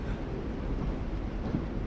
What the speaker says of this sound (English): Why the train? You always pick the train.